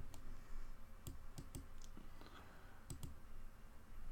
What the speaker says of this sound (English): You hear her keyboard clickety-clackety.